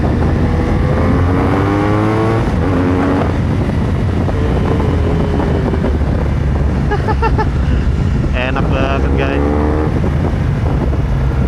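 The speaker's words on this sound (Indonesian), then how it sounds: "Untuk mesin 1200 boxernya nih." A BMW motorcycle with a 1200 cc boxer engine runs steadily up close, its low rumble rising in revs early on, with someone talking over it outdoors.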